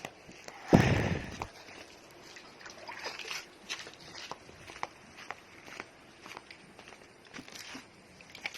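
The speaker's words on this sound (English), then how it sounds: "I will add some water." A burst of water splashes into a pitcher plant's pot of soil and charcoal, loud and close at first, followed by soft trickling, dripping and small handling noises.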